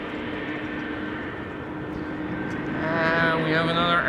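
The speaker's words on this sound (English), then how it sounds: "And we have another airplane that has been pushed back, another 777." Boeing 777 jet aircraft at Amsterdam Schiphol Airport, a steady loud engine roar with tonal whine that swells toward the end, with faint talk beneath.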